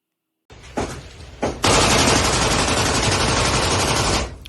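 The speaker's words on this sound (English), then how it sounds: "So it's just like mag dumping out the window." An automatic rifle dumps a full magazine out a window in a shooter game; a couple of single shots open into a dense, loud, continuous burst of fire lasting several seconds before cutting off.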